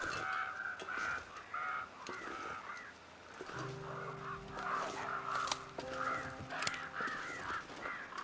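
Crows caw repeatedly in The Long Dark video game, harsh calls arriving in irregular bursts over a wintry ambient background, with a low droning tone joining partway through.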